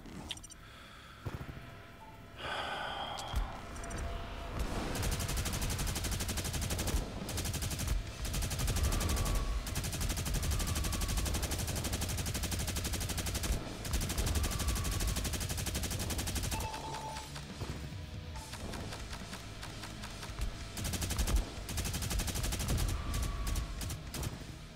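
Video game gunfire: rapid machine-gun bursts and volleys of shots crackle loudly and almost nonstop, broken by a few short pauses, with no one talking.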